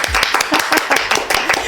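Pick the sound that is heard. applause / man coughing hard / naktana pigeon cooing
applause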